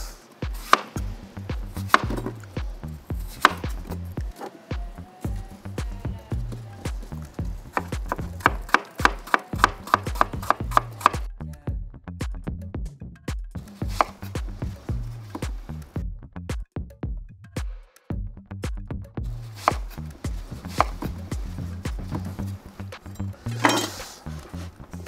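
A knife chops food into cubes on a wooden board, rapid bursts of sharp, close taps coming in quick runs with short pauses between.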